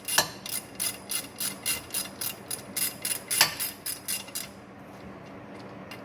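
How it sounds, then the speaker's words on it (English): A hand ratchet clicks in quick, even bursts, close and fairly crisp, while snugging up bolts on a skid plate under a Subaru Outback Wilderness; the clicking stops toward the end, leaving faint background noise. "I'm just snugging these up to hold that up until we get everything mounted."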